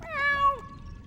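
A cartoon cat gives a single clear, close meow with a rising and falling tone that fades out after about half a second, with no talk over it.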